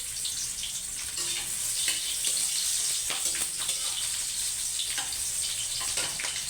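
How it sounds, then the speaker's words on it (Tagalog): Garlic and onion sautéing in a pan for a crab dish, a steady, bright sizzle with occasional stirring scrapes and clicks throughout, close and fairly loud. "Gigisa na tayo. Yan, bawang,"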